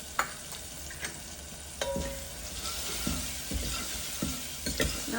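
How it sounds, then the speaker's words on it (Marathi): Turmeric being stirred into a simple home-cooked dish in a pan, heard as a steady close sizzle of frying under repeated scraping and stirring strokes of a spoon against the pot, with no talking. "मिक्स करून घेऊया. हळद घालूया आपण अर्धा चमचा."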